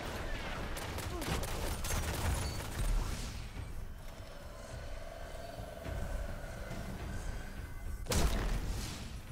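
Gunfire from a sniper in a team shooter video game, heard as a dense burst of shots and clattering impacts early on, a quieter stretch with a steady tone, then another loud crack near the end, with voices mixed in.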